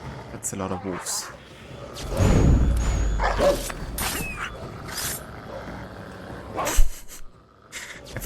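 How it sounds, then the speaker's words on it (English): A pack of wolves growls and snarls in Assassin's Creed III, close and loud in the middle, with sharp yelps and scuffling noises mixed with talking. "That's a lot of wolves."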